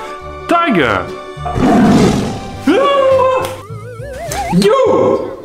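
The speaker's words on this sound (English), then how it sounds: "Tiger." Tiger roaring in a series of loud, close, drawn-out roars and snarls, alone with no talk.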